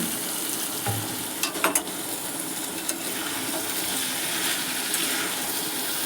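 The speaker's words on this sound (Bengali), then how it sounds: "এবার আমি সিদ্ধ করে রাখা যে মাটনটা আছে সেটা দিয়ে দিচ্ছি দিয়ে ভালো করে কষাব" Boiled mutton frying and being stirred in hot oil in a pan, a steady loud sizzle throughout with a few sharp scraping knocks of the spoon early on, no voices.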